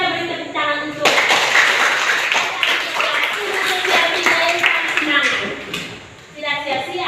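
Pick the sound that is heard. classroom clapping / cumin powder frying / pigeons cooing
classroom clapping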